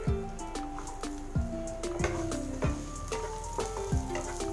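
Chopped ginger fries in a pan with oil for a samosa filling, giving a steady, fairly quiet sizzle with recurring soft clinks and stirring.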